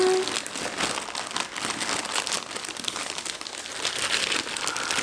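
A plastic bag crinkles and rustles continuously at close range. The crackling is steady and mid-level, with no voices.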